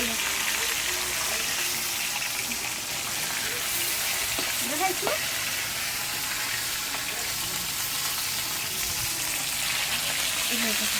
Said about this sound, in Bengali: সঙ্গে মাছগুলো ভেজে নিচ্ছে মা ভালোভাবে এপিট ওপিট করে